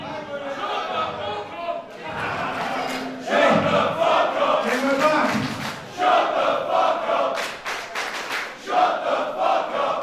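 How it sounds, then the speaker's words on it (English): A wrestling crowd at a WCPW show chants and jeers in loud, rhythmic waves at Prince Ameen, the massed voices filling an indoor arena with shouted bursts throughout. "this crowd may be saying what they think of Ameen"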